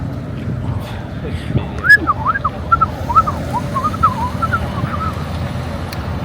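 Someone whistles a wavering, warbling tune over a low, rumbling background, the notes rising and falling in short bursts.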